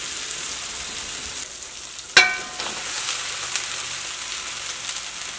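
Cooked rice stir-fried with capsicum in a hot pan, a steady close hiss of frying with one sharp metallic clank of a spatula partway through and light scraping after, no voices.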